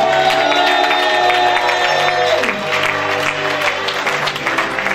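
A church congregation at a Lyon worship service claps and cheers for Jesus in loud, continuous applause with whoops and shouts, with a sustained musical tone ringing underneath.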